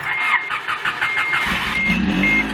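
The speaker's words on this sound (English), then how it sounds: "So we're gonna give our gas a couple pumps and turn our key" A 1990 Acura Integra engine cranks over with a rapid rhythmic churning after its fuel filter was changed, then catches and settles into a steady low idle, heard up close.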